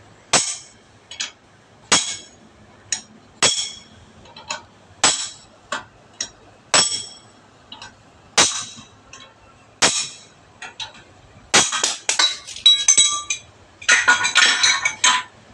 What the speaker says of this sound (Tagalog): Pupulsulin lang yung mga katornilyo para matanggal yung bearing.